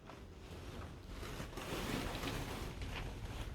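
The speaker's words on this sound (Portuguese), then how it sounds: "Esse vento é o da lona ali em cima." Wind pushing and flapping a plastic tarp stretched over a greenhouse roof at a lithops nursery, a steady rushing, rumbling noise that swells slightly toward the middle, with no voices.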